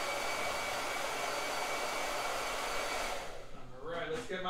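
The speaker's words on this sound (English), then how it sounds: "All right, blow dryer." A blow dryer runs steadily with a loud, even whoosh, then cuts out near the end as faint talking begins.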